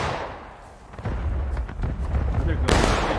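Musket volley fire in the War of Rights video game, heavy booming reports rolling through the scene with dense low rumble and a sharp burst near the end, under voices in the background.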